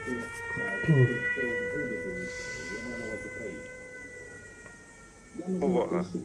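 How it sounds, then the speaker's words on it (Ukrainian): Air raid alert siren sounding steadily with sustained tones, with voices talking over it near the start, in the middle and at the end. "Повітряна тривога."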